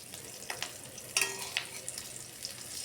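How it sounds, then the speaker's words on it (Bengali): Fish roe fritters shallow frying in oil, with a steady sizzle broken by sharp crackles and pops over a few seconds. "এইভাবে একটু লাল লাল করে ভাজবো"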